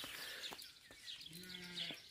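A sheep gives a single wavering bleat in a village setting, fairly faint and off in the distance, while birds chirp lightly around it.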